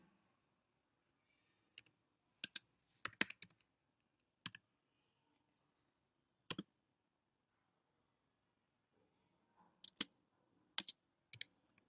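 Scattered keystrokes on a computer keyboard tap out in short, sharp bursts of a few clicks each, separated by long quiet pauses in an otherwise silent room.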